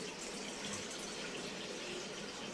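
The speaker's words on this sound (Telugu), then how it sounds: "లీటర్ వాటర్ పోసుకోవాలి." Water pours steadily and continuously into a pot for sugar syrup, a soft even rush heard alone at close range.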